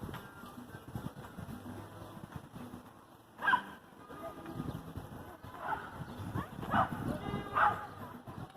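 A dog barks in a few sharp bursts at a distance, spaced irregularly through the clip, mostly under ongoing talk and street background.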